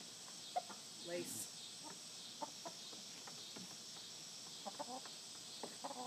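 Ameraucana and other backyard pet chickens cluck and murmur softly nearby in short scattered bursts, with a brief spoken word over a steady background hiss.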